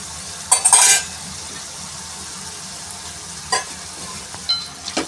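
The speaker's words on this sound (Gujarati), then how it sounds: "હવે આપણે એને હલાવી નાખીશું" Sponge gourd curry frying in a pan and stirred with a spoon: a low constant sizzle broken by sharp metallic scrapes and clinks, one loud burst near the start and a few more later, close up with no talking.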